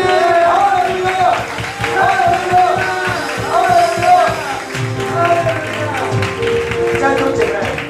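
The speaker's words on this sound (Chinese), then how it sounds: "让掌声献给耶稣" A congregation at a church service applauds, with rhythmic clapping running under loud voices that carry on throughout.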